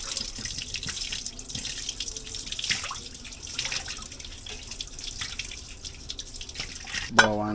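Jasmine rice rinsed in a kitchen sink, water pouring steadily from the faucet with splashes and drips, close and continuous, ending in a brief clatter.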